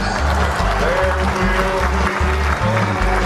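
Applause from a live audience after a show ends, a steady clapping wash over a deep rhythmic musical pulse, with faint voices mixed in.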